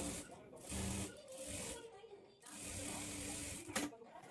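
A sewing machine stitches a folded half-inch strip of cloth for a blouse waistband, whirring in uneven bursts with short stops, fairly quiet, while someone talks over it.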